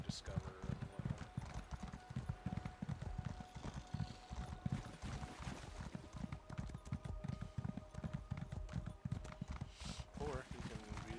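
Horse hooves clip-clop in a steady, brisk rhythm as a rider travels on horseback in the video game Elder Scrolls Online, close and continuous, with a brief whinny near the end and someone talking over it.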